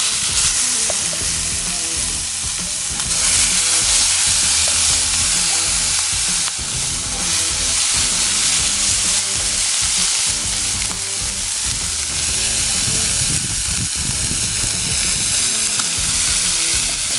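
Pork sisig mixture sizzles and fries steadily in a smoking hot skillet with only a few drops of oil, a loud continuous crackle with stirring scrapes throughout.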